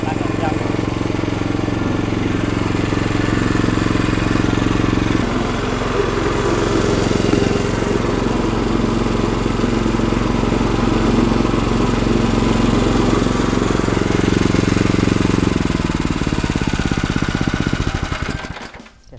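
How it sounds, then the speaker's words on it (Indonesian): A machine for making fish feed pellets from maggots mixed with other ingredients runs with a loud, steady engine drone for nearly twenty seconds before winding down at the end. "Fungsinya mesin pembuat pelet ini hanya untuk nyampur supaya maggot sama bahan lain itu jadi satu."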